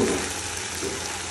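A spoon stirs a simmering home-cooked dish in a pot, a steady close sizzle with faint scraping and bubbling, no talk over it.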